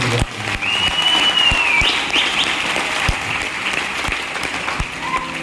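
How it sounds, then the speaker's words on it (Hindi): Sustained applause from a large crowd fills the whole stretch, dense and steady, with a faint whistle rising above the clapping. "एक जोरदार तालियां इन सारे।"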